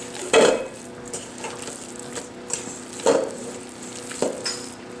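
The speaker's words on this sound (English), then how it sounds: "mix all the ingredients up" Cooking ingredients are stirred and mixed in a pot or bowl, with a few distinct clanks of utensil against the vessel separated by quieter scraping, near and with no talk.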